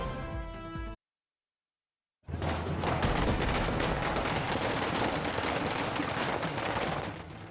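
Fireworks crackle in a dense, continuous barrage at a street celebration in Agra, loud and steady after a brief drop to silence.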